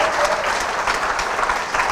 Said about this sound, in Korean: 최고의 회사에 오신 여러분을 위해서 박수 한번 치도록 하겠습니다